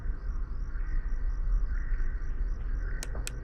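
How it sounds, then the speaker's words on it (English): Crickets chirp steadily in a video game, a soft continuous pulsing layered over a low ambient rumble, with a couple of short sharp clicks near the end. "Those crickets are louder than anything."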